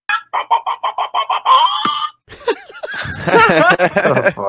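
A voice imitates a chicken, giving a run of eight quick, evenly spaced clucks that swell into a drawn-out squawk, then trails into excited laughter and chatter from several people.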